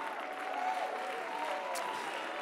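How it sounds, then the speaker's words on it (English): A church congregation claps and cheers in praise, a faint, distant, steady patter of applause with crowd voices mixed in. "I want you to clap your hands to the Lord and give the Lord a shout of praise here tonight"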